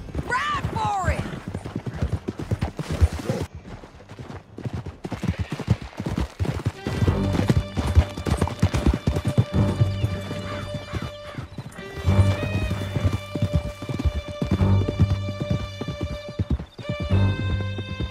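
Galloping horse in the Red Dead Redemption 2 video game: steady, rapid hoofbeats clip-clop close by for the whole stretch, with whinnies and voices talking over them and music tones.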